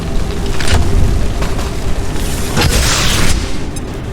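A grenade blast in XCOM 2: War of the Chosen booms loudly and close, followed by a rolling, rumbling second burst and scattered debris-like crackle, with no talking.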